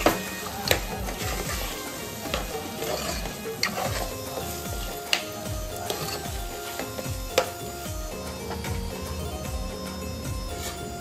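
Mutton being stirred into a cooked masala gravy in a pot, a steady sizzle and fry under repeated scraping and stirring clatter with occasional sharp clinks of the spoon, close and fairly busy throughout.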